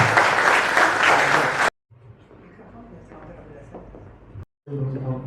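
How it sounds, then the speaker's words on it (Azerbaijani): Loud applause from a crowd at a memorial event bursts out, then stops abruptly; quieter murmuring and faint talk follow before the clapping briefly returns. "Gəl onu alqışlayaq"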